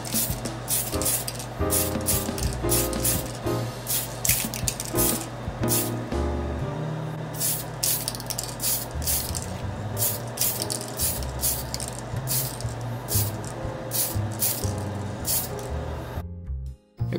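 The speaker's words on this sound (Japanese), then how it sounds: "今度はこちらのトップコートの艶消しをかけていきたいと思います。" An aerosol can of matte topcoat sprays HGCE Freedom Gundam plastic model waist parts in a close, loud stream of hissing bursts with brief gaps between passes, cutting off abruptly at the end with no talking.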